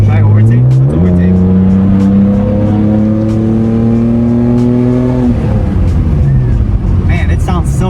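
A 1999 Nissan Skyline GT with a Tomei exhaust accelerates hard to overtake, its loud engine note climbing steadily in pitch for several seconds, then dropping sharply as the throttle lifts and a voice speaks briefly.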